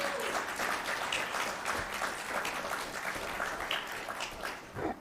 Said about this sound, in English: So a big round of applause for Associate Dean Lauren Rosario-Sidney